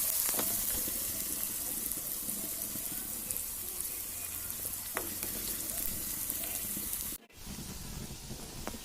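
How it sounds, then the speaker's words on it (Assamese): Sliced onions frying in hot oil in a wok for baingan bharta, a steady close sizzle with faint stirring scrapes and a brief dip near the end. "আৰু পিঁয়াজখিনি ৰঙচুৱা হোৱালৈকে অলপ সময় ভাজি ল'ম।"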